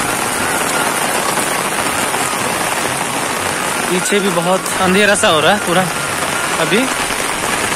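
Heavy rain pours in a village in a dense, steady hiss close by, while someone speaks over it partway through.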